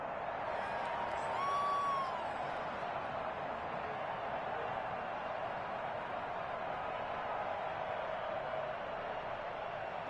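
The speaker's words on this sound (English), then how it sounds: "the crowd getting into it as we come up on a big third down" A football stadium crowd cheers and roars at a distance, a broad steady wash of noise ahead of a big third down, with a brief whistle-like tone early on.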